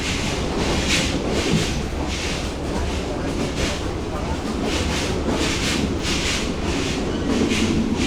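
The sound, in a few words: Burimari Express train rattling and shaking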